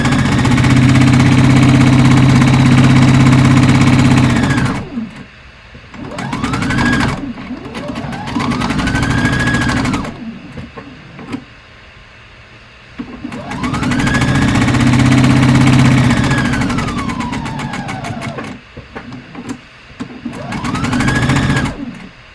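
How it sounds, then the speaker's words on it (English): A domestic sewing machine runs in long, loud bursts while back-stitching over a playsuit strap, pausing between passes and restarting with brief whirring stops and starts. "Back stitch over the strap so your strap doesn't pull out."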